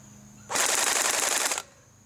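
ARES H&K G36C electric blowback airsoft gun firing a single full-auto burst of just over a second, a rapid, even mechanical rattle that starts and stops abruptly, loud and close against a quiet room.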